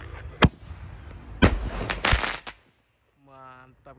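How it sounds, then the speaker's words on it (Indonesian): A Basoka Roman Candle firework launches outdoors with several sharp popping bursts over a hissing rush. A voice speaks briefly after the launches. "pelontar Basoka Roman Candle. Sudah menyala, siap meluncur."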